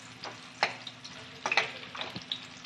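Chopped onion frying in a pan for a cluster bean bhaji gives a faint, quiet sizzle, broken by a few sharp spoon clicks against the pan.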